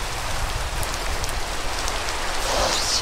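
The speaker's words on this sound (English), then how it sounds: "Oh, it's raining." Heavy rain pouring down in a video game setting, a dense, steady hiss of drops striking surfaces that stays loud and continuous throughout, with a few brighter splashes near the end and no talking.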